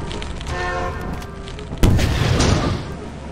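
An RPG rocket explosion goes off in a modded Lethal Company video game, one sudden loud boom that decays into a rumbling tail after a stretch of game ambience.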